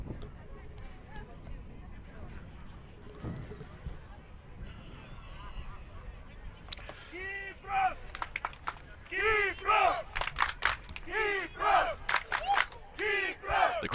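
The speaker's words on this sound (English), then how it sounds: "The crowd really getting behind the Cyprus national team here." A football crowd at a Cyprus versus Bulgaria match roars and chants for the Cyprus national team, building from a low murmur into loud rhythmic surging shouts, with commentary underneath.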